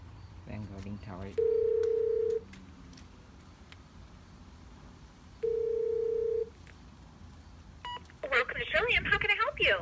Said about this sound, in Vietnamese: Đang gọi điện thoại.